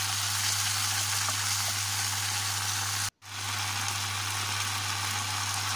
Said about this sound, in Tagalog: At maglalagay tayo ng pampasarap natin, yan ay oyster sauce. At ating halo-haloin ulit.